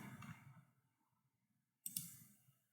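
A computer mouse click saves a Jenkins build job: a sharp, close click rises out of near-silence, with a soft, clicky rustle just before it.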